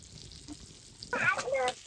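Corn chips dropped one by one into hot oil, a soft background hiss swelling into a louder crackling sizzle partway through, up close.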